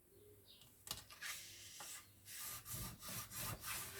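Paper being creased into folds for a homemade explosion box, with repeated close scraping and rubbing strokes, quiet and rhythmic, and no talking.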